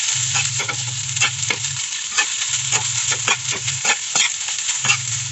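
Leftover rice stir-fried with egg in a pan, with a steady loud sizzle and repeated scraping stirs of a spatula in bursts, close up and without talk.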